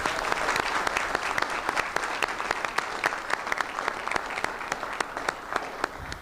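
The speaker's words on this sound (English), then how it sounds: "So please give them a round of applause." Audience applause at a DC Council budget presentation by the mayor, a steady sustained round of clapping from a gathered crowd, fairly even throughout with no speech over it.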